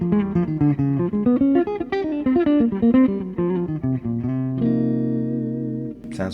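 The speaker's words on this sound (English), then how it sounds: "essentially that's my reverb and delay, which most of the time I just leave on" Electric guitar notes and chords ring out with reverb and delay from a Fractal VP4 pedalboard, each note trailing into echoes, ending in a sustained chord.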